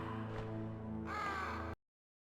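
Crows caw loudly in the Metal Gear Solid video game, harsh repeated calls layered over a droning game soundscape that cuts off abruptly at the end.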